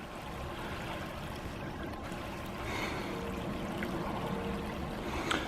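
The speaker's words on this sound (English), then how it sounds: "Nice little quiet creek." A small, quiet creek in a park meadow flows steadily over its bed, a soft continuous rush and trickle close by, with no one talking.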